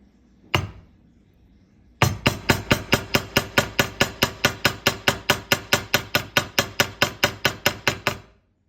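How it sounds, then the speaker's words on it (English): A wire heart bail for jewelry being hammered, one strike and then a pause, followed by a fast, even run of about thirty ringing metallic blows, close and loud, with no one speaking. "Now it will be time to hammer, because I hammer very nicely this part"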